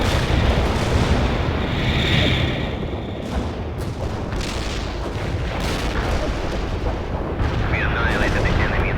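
Artillery shells firing in World in Conflict, dense rolling booms and blasts layered into a loud, continuous roar of battle, with bursts of radio-style voice chatter over the din.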